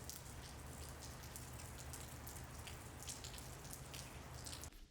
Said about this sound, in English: it's been raining for 4 days straight here in Spain